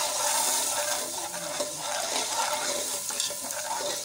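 Peas fry with ginger garlic paste in a pan for vegetable rice, making a dense, continuous hiss and crackle, with light stirring scrapes mixed into the steady sizzle.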